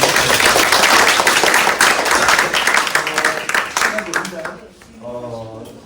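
An audience applauds a professor after a lecture at a Buddhist studies academic event, dense sustained clapping that gradually thins and fades as a voice begins speaking near the end.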